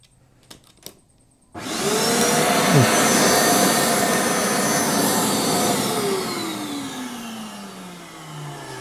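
A vacuum cleaner switches on after a few faint clicks, its loud whining roar starting abruptly and holding steady, then easing slightly in pitch toward the end.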